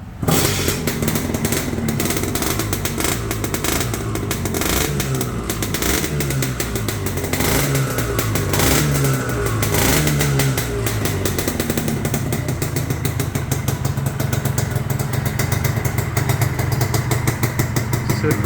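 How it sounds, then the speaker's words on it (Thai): A Honda Dash 125 two-stroke motorcycle engine with a new kick-starter runs close by, idling with a rattly, buzzing note and repeatedly revving up and dropping back, loud and continuous. "มาฟังเสียงซิว่ารถเดิมเสียงมันเป็นอย่างไรนะครับ"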